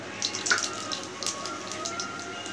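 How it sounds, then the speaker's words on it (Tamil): Mustard seeds crackle and pop in hot sesame oil at the start of a vegetable rice flake upma, a steady sizzle with scattered sharp pops close by. "எண்ணெய் சூடாகிடுச்சு, முதலாக அதில் சேர்க்க போகிறது கடுகு."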